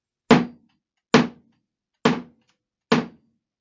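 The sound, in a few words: thud of a hammer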